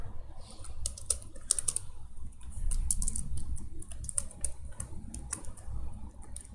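Computer keyboard tapped steadily while C++ code is typed, a close run of light, uneven key clicks and clatter with short pauses between bursts, no voices.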